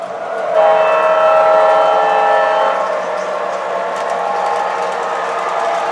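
An MTH model train starts out on a loop layout, giving a steady mechanical whir and hum with a tonal whistle-like tone early on, continuing at an even level.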